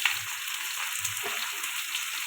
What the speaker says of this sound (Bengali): তেল দিয়ে দিলাম, পটলটা ভেজে নেব একটু